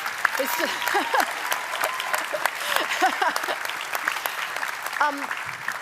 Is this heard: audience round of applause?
yes